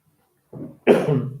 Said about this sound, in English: I cough here, and my student coughing there, coughing here, and coughing there, and coughing everywhere